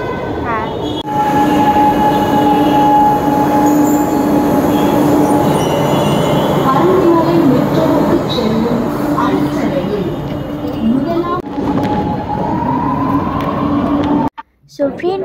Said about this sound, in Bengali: তোমরা দেখতে পাচ্ছ আমার মেট্রো চলে আসছে